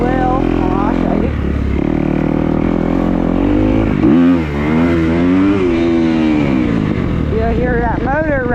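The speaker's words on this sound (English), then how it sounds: "You'll hear that motor rev out as it's trying to reach out" A motorcycle engine revs hard during a wheelie, its pitch swinging up and down as the throttle is worked, steady and close, with a voice talking over it much of the time.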